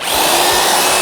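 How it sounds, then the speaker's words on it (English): A Sears double-insulated, reversible, variable-speed 3/8-inch electric drill runs forward with a loud, steady, close-up whine, its brushed motor buzzing continuously for about a second. "Double insulated reversible variable speed 3/8 inch electric drill"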